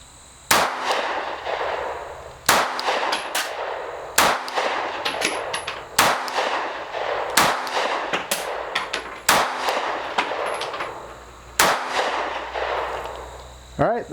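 Kimber Micro 9 compact 9mm pistol firing full metal jacket rounds at a target, about ten sharp, loud shots spaced irregularly one to two seconds apart, each with a brief ringing tail, no talking.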